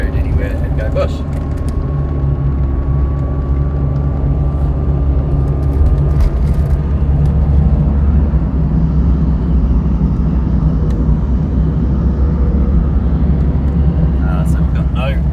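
A Land Rover Discovery 300tdi diesel on standard tyres drives off-road with a steady, loud low engine drone and rumble, while someone talks continuously over the cabin noise.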